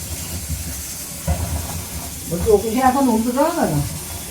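A pressure cooker whistle lets off steam in a wavering, rising hiss near the end, after faint background noise and a brief voice, moderately close.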